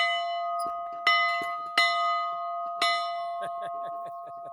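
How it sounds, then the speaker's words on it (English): A bell rings clearly with a sustained metallic tone, struck three or four times at uneven intervals, each strike ringing out and decaying, with faint clicks between. "Let's give the bell a ring"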